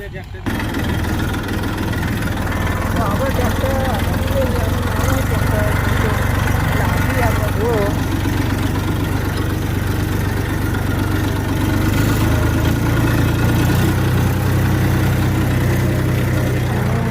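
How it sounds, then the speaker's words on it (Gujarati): A farm tractor loaded during the wheat season idles with a steady low diesel rumble throughout, while someone talks over the engine noise. "તો આ છે આપણું ટ્રેક્ટર"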